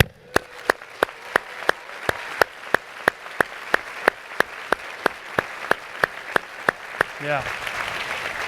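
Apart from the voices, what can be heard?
applause for graduating class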